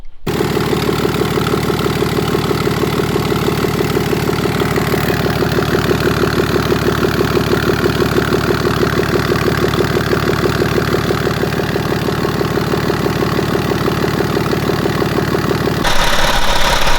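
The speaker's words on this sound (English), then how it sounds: "Okay, so the engine is running right now." A BMW X5 35d (E70) with the M57N2 diesel engine and a broken timing chain runs at idle nearby, a loud, steady, rapidly pulsing rumble that holds unbroken until it cuts off near the end.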